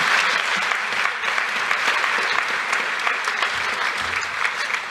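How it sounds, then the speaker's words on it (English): An audience at the African American Youth Achievement Awards 2025 applauds, a dense, steady wash of clapping from many hands that continues throughout. "You can applaud them."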